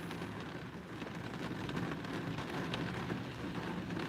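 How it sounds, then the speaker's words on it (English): Heavy rain pours steadily on a Saturday night, a dense, continuous hiss close by with no pauses or voices. "And it's raining hard."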